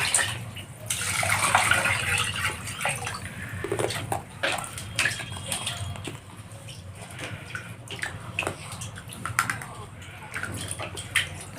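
Water runs and splashes steadily while rice is washed, with clattering handling sounds and faint voices in the background.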